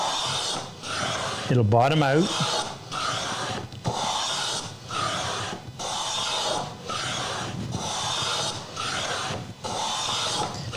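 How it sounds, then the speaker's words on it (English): Hand plane shaving a wooden workpiece in a woodworking shop, with repeated long rasping strokes in a steady rhythm, each stroke separated by a brief pause, close and fairly loud; someone speaks briefly near the start. "And you just keep planing until the plane no longer picks up any wood."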